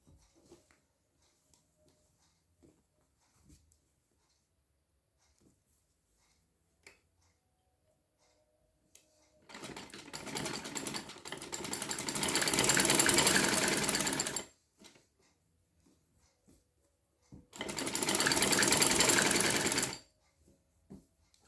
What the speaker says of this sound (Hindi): पूरे को सिलाई कर दें फ्रंट की साइड।